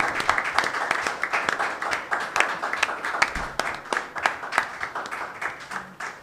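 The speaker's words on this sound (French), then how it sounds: "Il mérite plus d'acclamations que ça." An audience at a book signing in the United States claps for an author's first book, Go and See: a thin patter of individual hand claps, moderately loud and uneven, with faint voices underneath.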